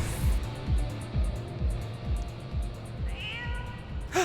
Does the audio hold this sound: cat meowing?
yes